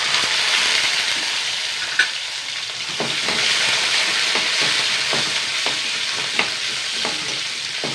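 Mustard seeds, dried red chillies and curry leaves sizzle in hot oil with a loud, constant frying hiss and occasional small pops and stirring clicks, close by and with no voices.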